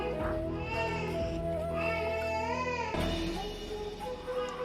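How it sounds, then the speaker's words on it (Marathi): A baby girl crying loudly and continuously in a home kitchen, a close, wavering wail rising and falling in pitch, with a brief break near the middle. "मुलगी खूप रडत आहे."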